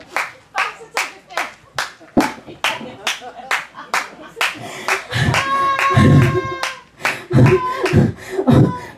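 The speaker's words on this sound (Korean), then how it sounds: "박수" Close, sharp hand claps from a performer in a one-woman street-entertainer show, first in a steady rhythm of single claps, then running into a sung or hummed tone with claps continuing over it.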